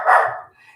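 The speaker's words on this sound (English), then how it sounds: "Oh, that's our dog." A single short, sharp dog bark sounds close and fairly loud indoors, followed by a faint trailing whine.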